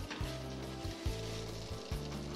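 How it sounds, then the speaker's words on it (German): Small bread-dumpling gnocchi sizzle in a pan with butter and sage, giving a steady close frying hiss with rhythmic scraping strokes as they are stirred. "Mit Butter und Salbei werden die kleinen Knödel leicht angeschwitzt."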